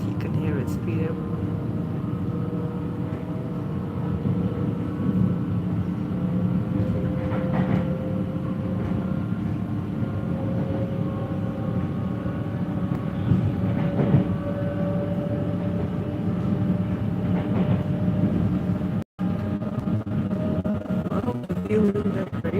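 Intercity train pulling away from a station and gathering speed, a steady interior rumble with rising whine tones and faint rail clatter, heard from inside a carriage.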